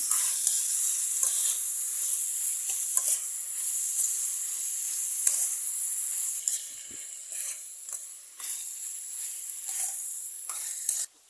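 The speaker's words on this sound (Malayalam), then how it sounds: "ഇത് നന്നായിട്ടൊന്ന് വഴറ്റിയെടുക്കാം നമുക്ക് നന്നായിട്ട് വാടി കിട്ടാൻ ഒരു കാൽ ടീസ്പൂൺ ഉപ്പും കൂടി ഇട്ട് കൊടുക്കാം" Eggplant sautés with salt in a pan, making a soft, steady hiss and sizzle broken by frequent clicks and scrapes of stirring across the whole stretch. No one talks.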